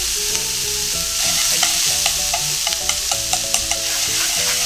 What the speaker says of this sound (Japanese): 納豆もね、炒めることによって粘り気が少なくなって食べやすくなります